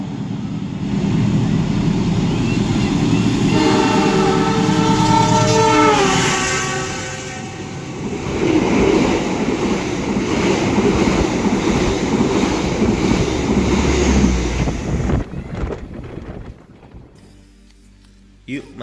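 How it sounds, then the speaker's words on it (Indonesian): An express train roars through a station at speed without stopping, a loud rumbling rush with a brief horn-like tone, then fades away near the end. "Kereta api Taksaka melintas langsung di stasiun Karawang."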